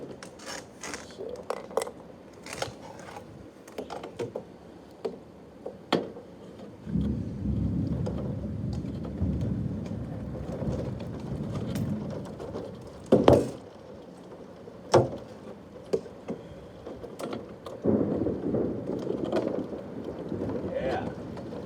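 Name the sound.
thunderstorm with thunder and rain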